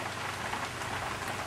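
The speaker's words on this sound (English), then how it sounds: "With the rain on the roof." Steady rain drums on the roof of a pavilion at night by the Cowpasture River, a dense, even patter with no pauses, heard alone.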